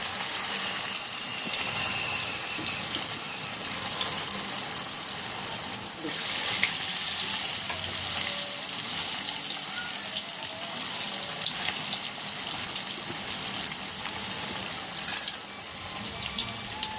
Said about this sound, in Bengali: এইভাবে কিন্তু ছেড়ে ভেজে নিতে হবে গ্যাসটা জোরে দিয়ে ভাজা যাবে না